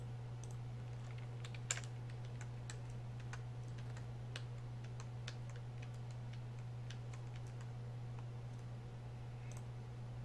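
Sparse, irregular clicks during a Pokemon Soul Silver game stream, light taps scattered over a steady low hum, faint and close, with no talking.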